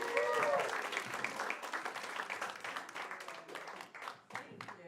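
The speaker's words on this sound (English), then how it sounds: "Clap it up for Allie Breen, everybody." A comedy club audience in Times Square applauds comic Allie Breen, brisk scattered clapping that starts full and then thins and fades over several seconds, with a voice briefly heard over it.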